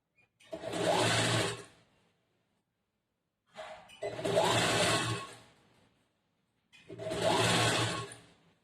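A sewing machine stitches a blouse in three separate bursts, each lasting a second or two, with quiet pauses between them. The motor sounds close, loud and raspy.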